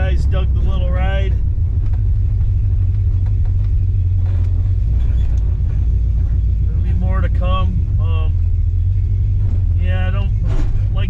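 A 340 Duster's engine rumbles low and steady throughout a drive, close and continuous beneath a voice talking over it.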